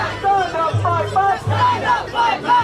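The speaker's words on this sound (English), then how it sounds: "you see the crowds here have come to a squeezing point outside the pub" A dense crowd packed outside a pub, a steady babble of many voices with shouts and calls rising over it, close and loud throughout.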